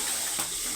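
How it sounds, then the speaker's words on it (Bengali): Water poured into a simmering fish head curry with potatoes and pointed gourd, a brief steady splashing hiss over the pan. "একটু জল দেবো, অল্প জল দেবো"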